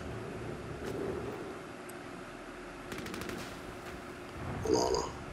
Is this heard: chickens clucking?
no